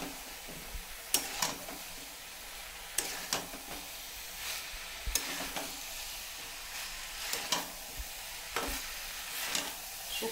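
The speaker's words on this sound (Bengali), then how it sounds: "এখন আমি সবজিগুলো দিয়ে দিব। সবজিটাকে একটু ভেজে নিলে" Vegetables for shukto fry in a pan with a constant hiss, broken by periodic sharp scrapes of a spatula stirring them, close and moderately loud, no voices.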